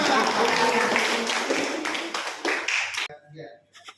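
A classroom group claps together during a teaching-practice lesson, a dense burst of hand claps lasting about three seconds. It stops abruptly, and a few faint sounds follow in near silence.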